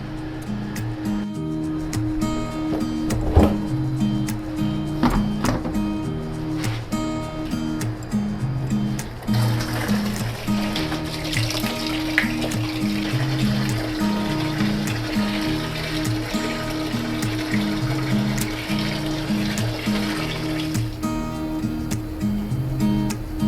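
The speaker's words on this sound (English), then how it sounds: "right now we're running plain water through the system just to flush out everything" Plain water rushes steadily through the pipes of a dosing system over a low, pulsing mechanical hum, the flow growing louder and fuller partway through.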